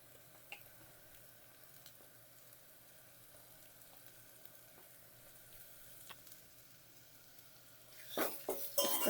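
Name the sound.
masala paste frying in tempering for pepper rasam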